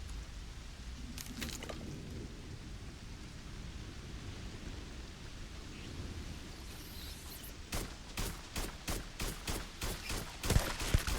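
Gunfire in the space game Starfield, first a few scattered shots over a steady low ambient rumble, then a rapid run of roughly a dozen evenly spaced, punchy shots in the last few seconds.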